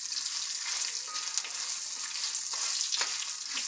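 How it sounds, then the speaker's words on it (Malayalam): Chopped onions frying for a Kerala varutharacha sambar give off a steady, close sizzle of hot oil with a few faint stirring scrapes, and no one speaks. "ഇനി നമുക്കിതിലേക്ക് ഉള്ളി ഇട്ട് കൊടുക്കാം"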